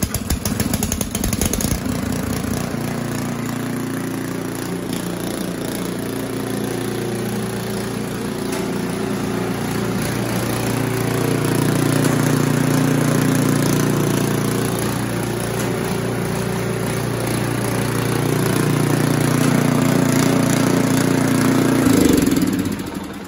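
An Ariens Compact 24 snow thrower engine fires up after a few rough turns, then settles into a steady, loud, close running drone that rises slightly midway and keeps going to the end.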